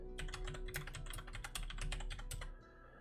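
Fast, continuous typing on a noisy mechanical keyboard, close and crisp with dense overlapping key clicks for about two and a half seconds before trailing off, no voices.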